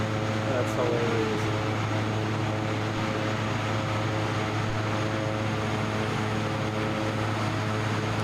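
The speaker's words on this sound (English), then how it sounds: "There's such a jumble of noise going on from the PC-12, the Vision Jet, my Baron, and everything else flying around." A steady, dense drone of several aircraft engines from Microsoft Flight Simulator 2024 runs throughout, including a PC-12, a Vision Jet and a Baron, with constant hum and propeller tones.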